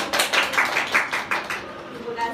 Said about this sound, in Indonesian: beri tepuk tangan buat Mbak Zara